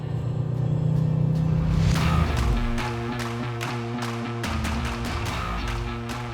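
Mercedes-AMG GT 63 S 4-Door Coupe with a 4-liter V8 engine, a deep, steady rumble that holds and then shifts pitch around two seconds, continuing loud and close with tapping pulses through the rest of the clip.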